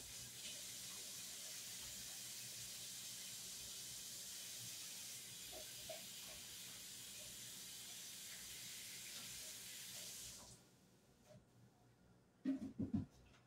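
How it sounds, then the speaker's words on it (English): A kitchen tap runs in a steady, fairly loud hiss for about ten seconds, then cuts off, followed by a couple of faint clunks and knocks. "So let me wash my hands real quick."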